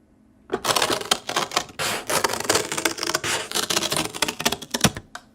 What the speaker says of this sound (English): the clicking of typewriter keys and the pulling of the carriage